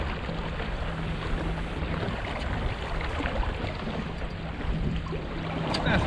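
MacGregor 26x sailboat on a test run off Tampa, a steady wash of water and wind rushing against the hull and microphone, continuous and fairly loud, with no talk.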